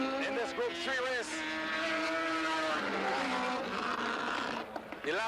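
A Mazda RX3 Group 3 race car at Bushy Park circuit in Barbados, its engine note rising and falling through gear changes as it passes, with a commentator talking over it.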